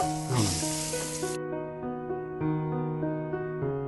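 Stuffed brinjals for baingan kofta curry are deep-fried in oil, giving a burst of sizzling hiss at the start that quickly gives way to a steady tonal hum.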